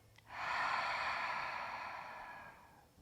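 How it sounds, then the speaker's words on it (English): A single long audible exhale through the nose or mouth during a yoga breathing practice, close and soft, swelling quickly then fading gradually over a couple of seconds in quiet surroundings. "Audible exhale"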